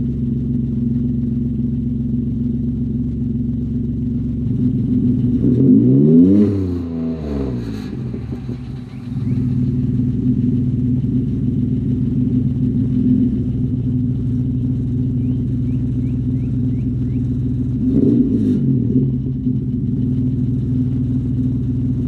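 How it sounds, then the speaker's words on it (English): A 4th gen Camaro with a 3.8L engine, muffler deleted but resonator kept, idles with a loud, steady exhaust rumble close by, swelling in two brief revs partway through. "see how it sounds with that resonator."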